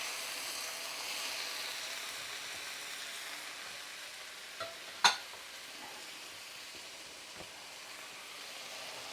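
Frozen spinach cooks in a large skillet with a steady, soft sizzle and hiss and one brief clatter of a utensil partway through, with no talking.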